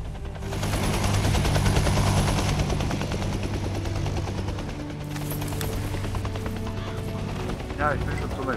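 Attack helicopter in the ArmA 2 military game, steady loud rotor and engine drone with bursts of rapid machine-gun fire and impacts, mixed with shouting players.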